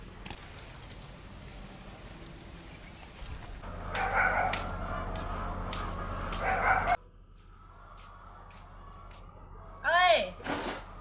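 A dog at a rural house barks and yips intermittently amid outdoor ambience, with voices talking nearby and a brief whimpering call toward the end.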